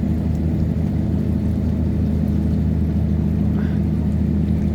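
Tugboat engines roar as the boats tow a cargo barge upstream against a flood-season current, producing a steady, heavy low-pitched rumble that holds unbroken from start to finish.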